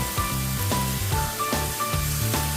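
Grated coconut is stirred into cabbage thoran frying in a pan, with a low sizzle under rhythmic spoon scrapes and knocks against the pan, accompanied by a steady musical backing and no talking.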